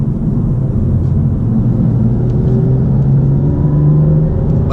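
Steady, deep engine rumble of a BMW M2 with a performance exhaust, heard from inside the cabin while driving, with the pitch climbing slowly under acceleration and no talking.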